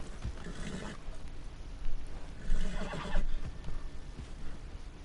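A horse in a video game lets out a few rough neighs and snorts in quick bursts in the middle of the clip, moderately loud over a noisy background.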